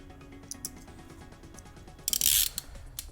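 A toothed blade cuts through Boba Fett vambrace material in a few short rasping strokes, the loudest one near the end, close and isolated against a quiet background.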